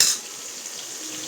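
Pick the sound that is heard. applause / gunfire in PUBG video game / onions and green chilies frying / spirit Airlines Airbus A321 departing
onions and green chilies frying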